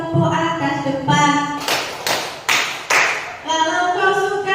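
Hand claps keep time with a group singing a Malay children's song, a few sharp separate claps breaking between sung phrases, close and loud.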